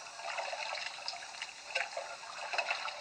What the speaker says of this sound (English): Then you put it in the rinse sink using the heel-toe method.